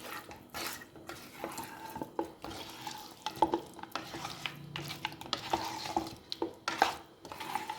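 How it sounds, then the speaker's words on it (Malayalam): Egg white being stirred into a mixture in a pan for fried chicken, with a spoon scraping and clinking against the pan in an irregular rhythm and soft wet squelches, close and fairly quiet, no talking. "നന്നായിട്ടൊന്ന് മിക്സ് ചെയ്യാം."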